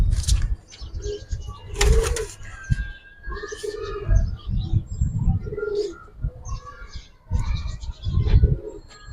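Giribaz and coloured pigeons coo repeatedly at close range in a loft, with occasional bursts of wing flapping and scattered chirps, no talking.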